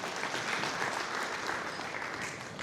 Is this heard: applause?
yes